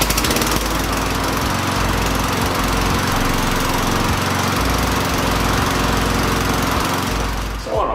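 A Toro lawn mower with a Tecumseh LV195EA engine, its carburetor just cleaned, running close and loud at a steady, rough, chugging idle throughout.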